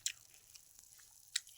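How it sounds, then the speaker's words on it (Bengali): Puffed rice (muri) eaten from a basket, a few faint crisp bites and chews at close range, with two sharper crunches at the start and near the end over a quiet background. "মুড়ি খাচ্ছি ঝুড়ি দিয়ে আজকে।"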